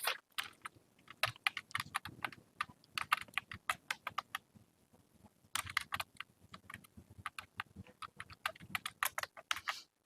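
Fingers tap out an Aadhaar number on a computer keyboard while filling in an online UP scholarship application, producing close, irregular bursts of crisp keystrokes with short pauses and no voices.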